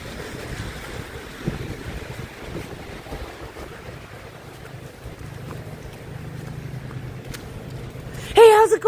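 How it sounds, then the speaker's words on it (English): Strong wind buffets a microphone on a city street, a low rumbling roar that rises and falls with the gusts, with a brief louder burst near the end. "The wind really took a swing at me there."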